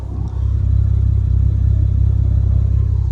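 A Lexus IS300 with an aftermarket axle-back exhaust idles close by, giving a steady low rumble with a faint gurgle and no voices.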